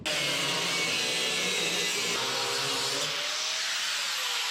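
An abrasive cutoff wheel grinds through metal on a 1967 Toyota Stout truck, a loud, continuous harsh whine and scraping roar close by, with no speech.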